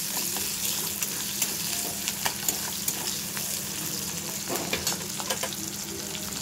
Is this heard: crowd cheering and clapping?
no